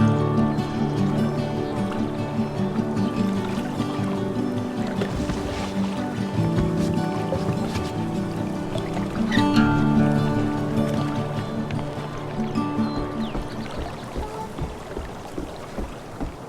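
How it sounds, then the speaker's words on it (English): Kayak paddling in the video game Life Is Strange: True Colors: soft, steady water strokes and lapping mixed under a continuous bed of game music, with no one speaking. "If not for the paddling, kayaking would be super relaxing."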